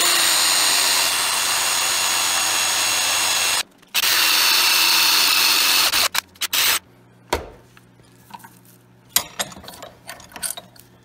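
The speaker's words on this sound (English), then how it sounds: "How about a drill bit drilling through a drill bit?" A power drill grinds steadily at close range for several seconds as a drill bit bores through another drill bit, briefly stops and restarts, then falls into short bursts and scattered mechanical clicks and clatter.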